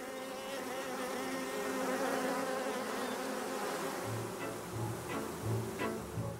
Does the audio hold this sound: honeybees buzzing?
yes